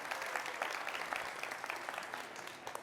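A university audience claps in a short, steady round of applause, even and moderately loud throughout, with no talking over it.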